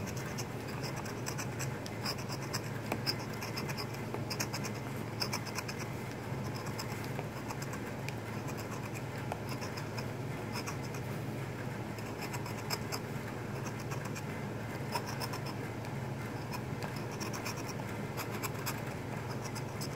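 A lottery scratch-off ticket is scratched with continuous rapid, close scraping strokes, faint and steady throughout with no talking.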